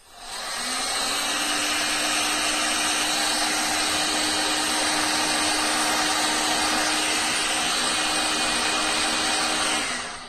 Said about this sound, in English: we'll just shrink it down with our heat gun